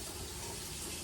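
Hot water is poured for mixing, giving a steady, continuous gushing stream, fairly faint and close, heard alone for about a second.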